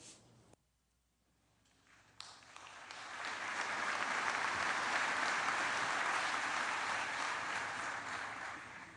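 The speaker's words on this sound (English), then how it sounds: "let's give the band and the chorus another round of applause" A large outdoor crowd at a Memorial Day ceremony at Arlington National Cemetery breaks into applause that swells to sustained, dense clapping and holds steady for several seconds.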